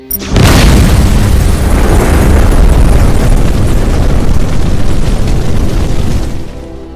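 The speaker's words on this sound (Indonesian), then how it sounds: "Robert pun meledakkan tempat itu" A bomb destroys a strip club in an action film: a sudden massive blast, then a long loud roaring rumble of debris that holds for several seconds before fading.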